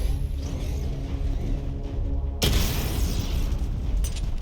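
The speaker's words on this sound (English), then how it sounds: "Destroy targets to charge up weapon energy and activate missile barrage." A heavy boom from a missile barrage in Batman Arkham, a sudden loud burst that cuts in over a steady low game rumble and keeps sounding for some seconds.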